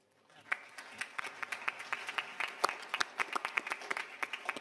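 Audience applause for a panel at the Davos World Economic Forum annual meeting: separate claps pick up quickly into a moderate, fairly even patter from a modest crowd, heard at a distance.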